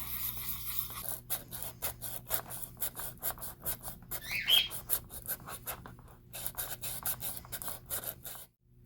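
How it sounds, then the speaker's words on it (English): Repeated rhythmic scraping strokes of hand sanding an airbrush pot, brisk back-and-forth bursts with short gaps, close by, ending in sudden quiet. "Help me with the sanding"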